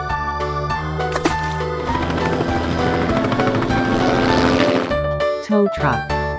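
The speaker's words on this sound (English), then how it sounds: "Helicopter." Helicopter rotor chop and engine whine, loud and continuous for several seconds, set against a rhythmic musical backing that returns as the aircraft sound fades out.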